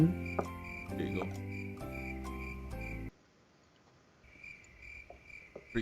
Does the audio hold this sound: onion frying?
no